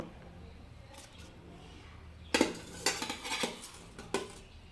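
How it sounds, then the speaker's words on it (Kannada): Metal clatter from an idli steamer as spicy steamed rice dumplings wrapped in banana leaf, made from ration rice, are lifted out; a quiet stretch gives way to several sharp clinks and scrapes of the stacked plates, close and moderately loud. "ಇಡ್ಲಿ ಪಾತ್ರೆಯಿಂದ ಎಲ್ಲ ತಕ್ಕಂತ ಇದ್ದೀನಿ"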